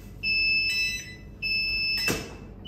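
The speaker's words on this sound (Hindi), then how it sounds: "35 मिनट हो चुके हैं, क्यों? क्योंकि अलार्म बज गया।" An oven timer alarm sounds while a homemade white bread made from 1 kg of maida bakes, giving two steady high electronic tones with a pause between them, then a short clatter near the end.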